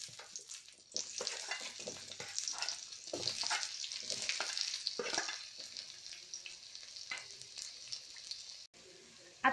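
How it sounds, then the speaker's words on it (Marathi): Sliced onions dropped into lightly heated oil in a pan, a continuous close hiss of frying that swells after a second, then thins out toward the end, with no voice over it. "तेल थोडंसं गरम झालं की त्याच्यामध्ये आपण स्लाइस केलेले कांदे"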